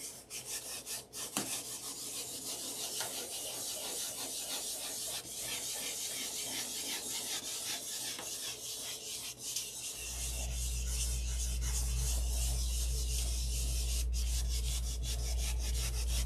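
Steady back-and-forth rubbing of 1500-grit sandpaper over a surface, a continuous close scratchy hiss that grows heavier and denser in the second half.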